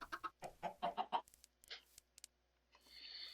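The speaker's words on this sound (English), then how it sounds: "I got quite a little flock going of chickens" Chickens in a Minecraft modpack flock cluck in a quick run of short, close calls, followed by a few scattered softer clucks and a brief higher squawk near the end.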